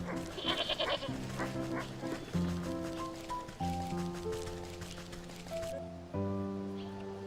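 A goat in the video game Wytchwood bleats over tonal game music, which runs throughout. The bleat is short and sits near the start.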